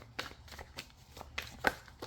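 Tarot cards are shuffled by hand, making a string of soft, quick riffling flicks at close range in a quiet room.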